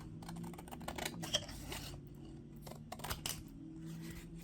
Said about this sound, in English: now let's trim this up, leaving about 1/8 of an inch